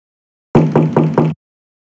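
Four firm knocks on a wooden door in the adventure game The Blackwell Legacy, evenly spaced and loud, standing alone with silence before and after.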